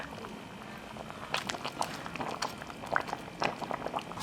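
A pot of chicken and gastrodia tuber soup stews on the stove, giving soft bubbling and scattered clicks and clatters. The sound stays low and moderately close, with a faint voice now and then.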